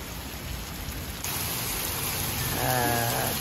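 Heavy rain pours down steadily in a village during flooding, a dense, continuous hiss that grows slightly louder partway through, with no voices.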